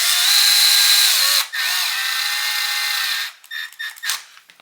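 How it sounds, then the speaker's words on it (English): A power drill drives screws into 3D-printed parts on an Axial UTB18 Capra RC chassis, with two loud, sustained whirring runs that rise and fall in pitch, then short bursts as the screw seats and the drill stops. "I have to go just until the drill stops."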